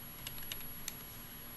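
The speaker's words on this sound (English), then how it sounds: "I'm typing that backwards." Typing on a computer keyboard produces a few quiet, scattered key clicks over a faint background hum, heard briefly without speech.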